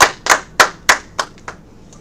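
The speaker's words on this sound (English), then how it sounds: "go ahead, clap it up" A church congregation claps together at a Feast of Tabernacles gathering in Kansas City: about six loud, sharp bursts of hand claps in a loose rhythm, fading and thinning toward the end, with no talking.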